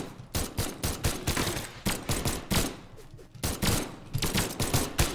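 Repeated gunshots from the fighting game Brawlhalla during a ranked 1v1 match, fired in quick irregular bursts of sharp, loud cracks that carry on across the whole stretch.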